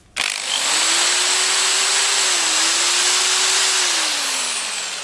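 A Black and Decker KR705K hammer drill runs steadily at its lowest trigger setting, a continuous whining motor drone lasting about five seconds with a slight pitch wobble, loud and close, with no talk.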